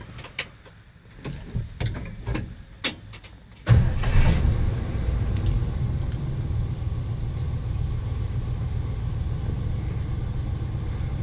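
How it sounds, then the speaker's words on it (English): Engine of a 1973 Ford F100 farm truck starting: a few clicks and light rattles, then the engine catches abruptly and settles into a steady low idle rumble, close and loud with no talk. "The thing starts right up."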